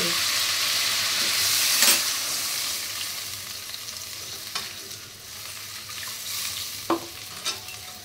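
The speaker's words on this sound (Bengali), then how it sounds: "এবার আমি জলটা দিয়ে দিচ্ছি, অ্যাড করে দিচ্ছি" Koi fish frying in oil hisses loudly as a little water goes in, then a steady close sizzle continues with scattered utensil clicks and pops.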